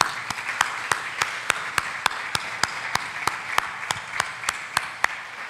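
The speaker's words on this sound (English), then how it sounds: "Give yourselves a round of applause." An audience claps in steady applause at a teachers of the year awards ceremony, with sharp individual claps standing out over a continuous wash of hands throughout, moderately loud and without talk.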